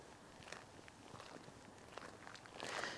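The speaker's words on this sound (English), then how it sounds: "I love the sound of footsteps." Footsteps walk at a steady pace, soft irregular scuffs and taps close by against a quiet, slightly hissy background, growing a little louder near the end.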